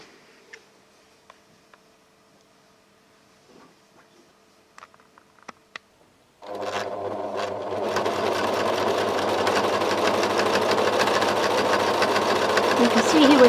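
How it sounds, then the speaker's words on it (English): A sewing machine stitches the handles of a tote bag made from tea towels, starting after a few quiet seconds of faint ticks and clicks, then running as a loud, continuous, fast mechanical hum close by until the end. "We're sewing the handles,"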